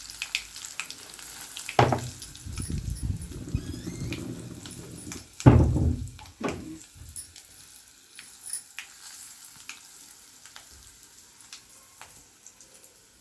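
Okra frying in a hot pan with spices and turmeric, a broad sizzle swelling loudly as pieces drop in around the two- and five-second marks, then settling into a quieter, steady crackle.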